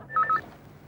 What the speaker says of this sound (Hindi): नरेंद्र तुम लालवानी को फोन करो